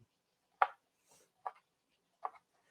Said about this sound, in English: He's chopping spinach with this odd knife.